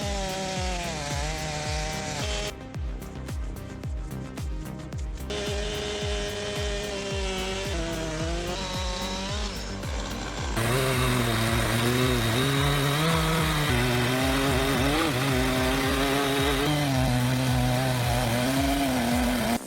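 A Stihl 880 chainsaw cuts through a giant redwood log at a sawmill, its engine droning loud and close, dipping briefly then rising to a harder, sustained cutting whine for the rest.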